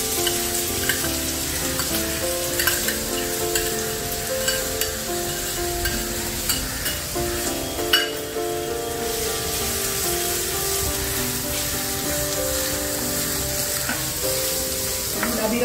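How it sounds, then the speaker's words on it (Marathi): Finely chopped onion fries in about three spoonfuls of oil in a pan, giving a steady, close sizzle with light stirring clatter, while soft background music plays throughout. "प्रथम आपण 3 चमचे पॅन मध्ये तेल टाकूयात. यात आपण बारीक चिरून घेतलेला कांदा परतून घेऊया."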